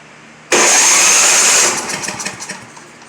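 Engine of a Simplicity 7524I snow blower that won't stay running, bursting into a loud roar as it tries to start, then sputtering and fading unevenly within about two seconds.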